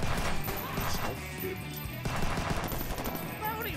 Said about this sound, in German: wo kommen denn die Schüsse her?